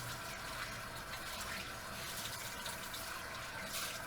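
Kitchen tap water running steadily while mixer beaters are rinsed after making fruit pies, a constant faint hiss and splash with no talking.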